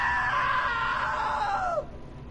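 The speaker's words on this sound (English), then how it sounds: "Now that was a great scream." A single long, loud scream rings out close by, holding a high pitch before sliding downward and cutting off abruptly, with quiet background after.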